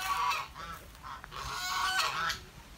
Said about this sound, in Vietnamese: Có được ba con ngỗng.